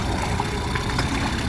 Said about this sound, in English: So everything with the engine is working perfectly fine like it should now